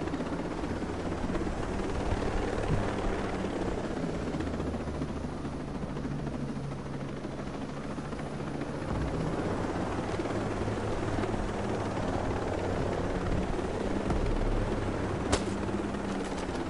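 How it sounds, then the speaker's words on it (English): A helicopter flies in a PS4 video game during a truck mission, its steady rotor drone loud and continuous throughout, mixed with faint gunfire-like crackle and a sharp click near the end. "Here, just hop in the chopper."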